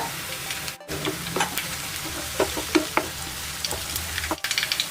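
Onion, tomato, crushed garlic and curry leaves sauté in hot oil for vanjiram dry fish thokku. A dense sizzle carries irregular spatula scrapes and taps, with two brief dropouts and no talking.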